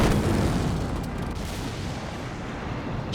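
A strafing run attack in the Company of Heroes 2 war game, heard as dense, rumbling artillery-like gunfire and booms, loud at first and then easing slightly.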